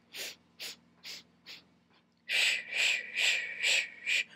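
A Pilates instructor breathes in rhythmic pulses through the hundred exercise on a reformer. Four short, soft breaths are followed by five louder, fuller pulsed exhalations, close and without speech.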